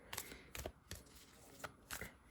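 Tarot cards are cut and shuffled close by in quiet, soft papery riffles and taps that come in short bursts about every half second, with no talking.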